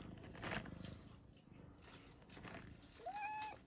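An injured cat at an animal shelter gives a faint, short meow near the end. Before it comes quiet rustling and handling noise, and the sound is soft overall.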